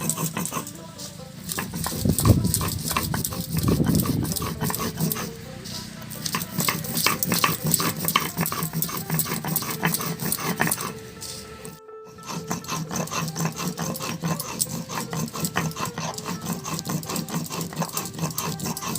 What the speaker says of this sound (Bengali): শুকনো লঙ্কা আর গোলমরিচ আমি একসাথে বেটে নেব।